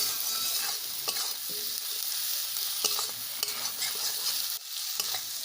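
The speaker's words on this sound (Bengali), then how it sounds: "এখন আলু সহ মশলাগুলো 2 মিনিট ভেজে ভালোভাবে কষিয়ে নেব।" Potatoes with spices frying in a pan, a dense, bright sizzle held steady and close, with occasional clinks and scrapes of a spoon stirring and a brief dip near the end.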